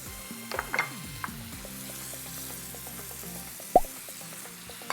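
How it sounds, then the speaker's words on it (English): Ginger and garlic sizzle steadily in a pan deglazed with sake while a utensil stirs them, with a close, continuous hiss and a sharp clink near the end. "Now I'm gonna start deglazing the bottom of the pan. And it's time to add my ginger and my garlic."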